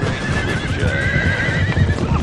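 Cavalry horses in the strategy video game Total War whinny loudly over a steady rumble of galloping hooves and battle noise, a dense, close mix with no talking.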